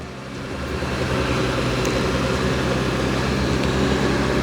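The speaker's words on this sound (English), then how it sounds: "the car is going to start backing up all by itself" A Genesis car reverses on its own under Remote Smart Park Assist, giving a steady low engine and drivetrain rumble that holds constant and fairly close with no talking.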